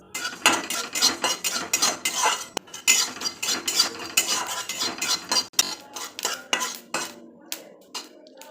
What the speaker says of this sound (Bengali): কড়াইয়ের মধ্যে আমি দিয়ে দিচ্ছি শুকনো লঙ্কা, গোটা ধনে, গোটা জিরে।